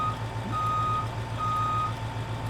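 Reversing-style warning beeps from a farm machine in Farming Simulator 15, a steady series of evenly spaced electronic tones over a constant low engine hum, with no talking.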